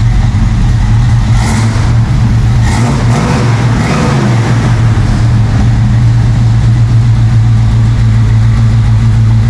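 New exhaust on a K5 Blazer idling close by: a steady, loud, deep rumble runs throughout with a few faint revs early on, and no voices.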